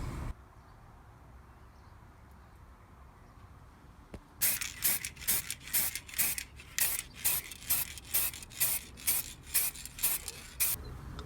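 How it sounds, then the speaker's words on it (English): Rust-Oleum gunmetal spray paint hisses from the can in a dozen short, evenly spaced bursts, close and crisp, after several seconds of quiet workshop room tone. "So this is Rust-Oleum gunmetal spray paint."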